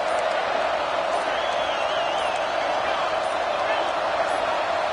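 Stadium crowd at a college football game featuring the Buckeyes against Miami, a steady loud roar with a sustained rumble and no break, a dense wall of voices throughout.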